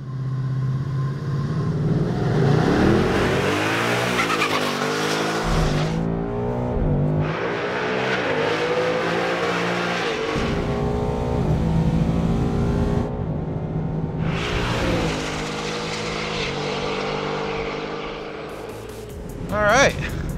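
A stock 2019 Ford Mustang on all-season street tires launches hard down a drag strip, its engine roaring loudly through rising gear pulls with brief shift breaks, sustained and close throughout.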